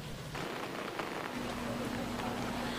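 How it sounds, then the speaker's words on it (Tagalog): Steady, dense typhoon rain pours down with strong wind in Batangas, a continuous wash of noise with a low hum running underneath and no pauses. "Talaga namang malakas yung ulan na sinasabayan pa ng malakas rin na hangin."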